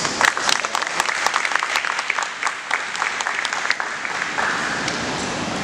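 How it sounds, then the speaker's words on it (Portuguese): A church congregation breaks into applause, a loud, crackling burst of many clapping hands that starts with sharp individual claps and settles into a steady wash before easing off. "Uma salva de palmas."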